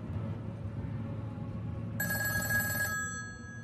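A telephone rings once with a bright electronic trill lasting about a second, over a steady low background murmur.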